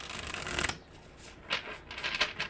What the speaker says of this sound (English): One more shuffle, guys.